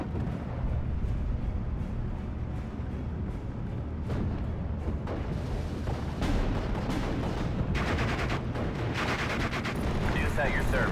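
Artillery fire in the WWII strategy game Steel Division Normandy 44, a dense, continuous rumble of distant booms and explosions with sharper blasts later on, under faint radio-style voices.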